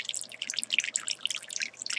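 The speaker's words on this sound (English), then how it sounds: "Probably going to pour a lot of water in the substrate for her." Water poured into the substrate of a tarantula enclosure, giving a continuous bright trickling and splashing with small drip-like pops, close and fairly quiet, with no talking.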